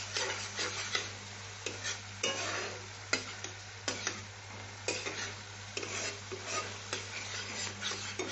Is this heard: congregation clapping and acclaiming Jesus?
no